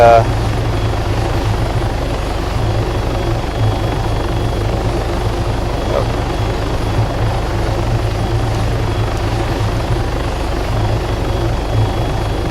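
A helicopter in the Arma 3 video game comes in low and slow for a running landing, its rotor and engine droning loud and steady throughout with a low thumping pulse.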